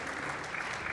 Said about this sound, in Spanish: pero un aplauso, por favor